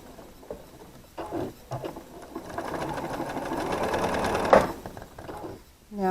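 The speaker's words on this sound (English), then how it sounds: "I take it to the machine and we can get this sewn" A sewing machine back tacks the seam where quilt rows made from half-square triangles are joined, whirring steadily and close for a few seconds after some handling noise, then stopping abruptly.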